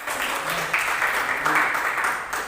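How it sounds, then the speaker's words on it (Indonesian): A church congregation claps during a sermon, a dense sustained patter of many hands filling the space at moderate loudness without pause. "Tepuk tangan buat Tuhan."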